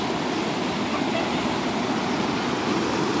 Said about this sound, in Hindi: इधर देखो झाल है बाय सभी बहन नहा रहा है